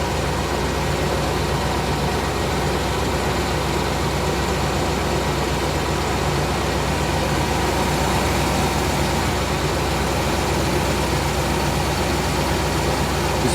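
The 1998 GMC Savana van engine idles smoothly with no ticking, a constant close-up rumble that stays level throughout, with no one speaking.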